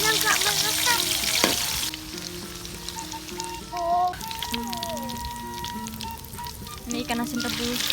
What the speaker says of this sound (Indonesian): Habis itu kita goreng terongnya guys, cuma sebentar aja, setengah matang aja guys kalau terong.